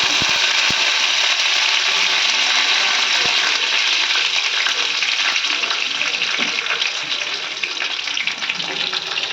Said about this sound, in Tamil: எண்ணெய் காஞ்சிருச்சு கடுகும் வெந்தயம் போட்டுக்கோங்க கடுகு பொரிஞ்சிருச்சு